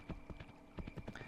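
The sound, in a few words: horse Jacob trotting in video game Kingdom New Lands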